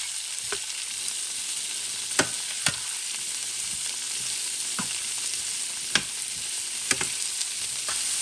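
Vegetables sizzling and caramelizing in a paella pan, a steady loud hiss of frying broken by a few sharp pops and stirring clicks, with no talk.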